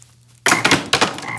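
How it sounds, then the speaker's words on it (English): A loud burst of frog croaks rattles in two quick waves after a quiet start, with no talking. "God is gonna send frogs."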